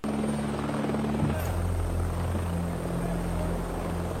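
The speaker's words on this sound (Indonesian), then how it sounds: "keesokan harinya Iceman pun datang dengan sebuah helikopter karena dia merupakan tahanan VIP." An arriving helicopter thumps and whirs loudly and steadily, close by, with its rotor beat constant throughout.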